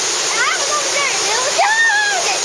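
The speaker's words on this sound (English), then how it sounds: "We're going to call this the Cold Water Falls" A waterfall in Japan rushes in a steady, close roar, with thin chirping tones rising and falling over the constant spray.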